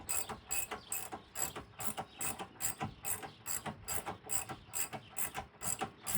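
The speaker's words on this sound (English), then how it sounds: "snug it up with the torque wrench to 20 foot-pounds" A torque wrench ratchets steadily, snugging a Curt suspension bolt in regular, evenly spaced clicking strokes that repeat close up for several seconds with no talk.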